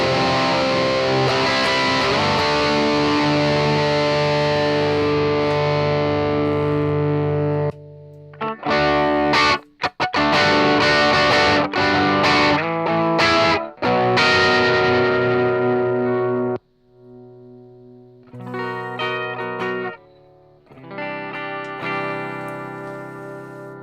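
Electric guitar through a 5150 Iconic tube amp, heavily distorted riffs with sustained chords, sharp stops and chugging palm-muted bursts, very loud and close with no talking.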